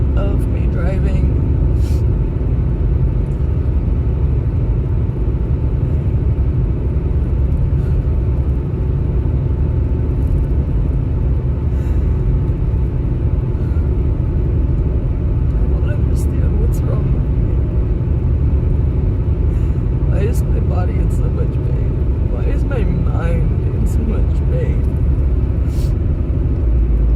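Steady, loud car road noise runs throughout: low engine rumble and whirring tyre drone from inside a moving vehicle, with occasional faint clicks and rattles and a voice talking over it.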